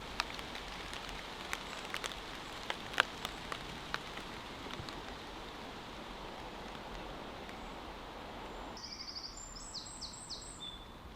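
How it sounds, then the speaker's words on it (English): Light rain shower falls steadily on a dugout pit shelter in the woods, with scattered louder drips, and near the end a few birds chirp faintly in the distance. "So we just had a bit of rain."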